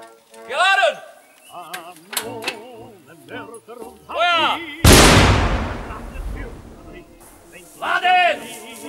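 A replica German light field howitzer fires one loud, sharp blast that rolls into a long fading boom, with shouted commands in German before and after the shot.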